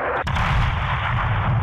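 Gunfire in the Modern Warfare 2 campaign: one sharp, close shot followed by a sustained, loud roar of rumbling battlefield fire with no gaps, and no voices.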